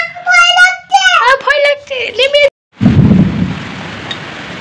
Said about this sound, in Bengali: বাইরে তো ঝমঝমিয়ে বৃষ্টি পড়ছে